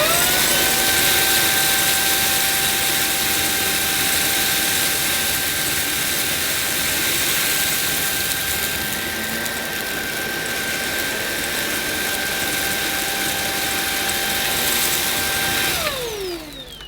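A Beldray Roller cordless vacuum cleaner picks up dirt from a carpet. Its motor gives a loud, constant high-pitched whine and airy roar for about sixteen seconds, then winds down with a falling tone at the end.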